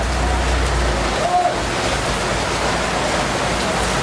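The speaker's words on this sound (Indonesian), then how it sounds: "Rata ya hujannya" Steady, hissing rain falls continuously outdoors, a dense, even wash of noise with no voices over it.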